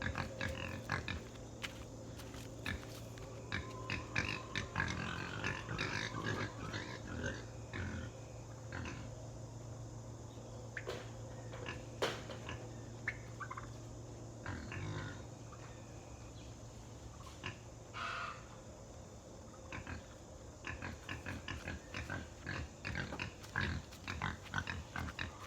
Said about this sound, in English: There's the pigs.